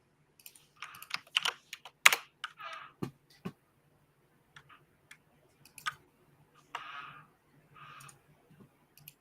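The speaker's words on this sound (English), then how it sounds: "Either of us are typing on these mechanical keyboards." Mechanical keyboard typing heard close up, irregular clusters of sharp clacks and key bursts with gaps between them, a few louder strikes standing out over a faint low hum.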